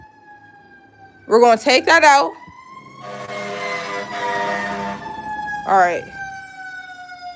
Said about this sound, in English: Sorry for the sirens in the back.